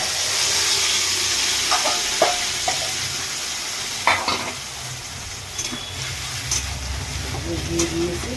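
Whole cardamom, cloves and cinnamon hit hot oil in a pan for chicken with coriander leaves, giving a steady close sizzle with a few clinks and scrapes as they are stirred, and a voice speaks over it.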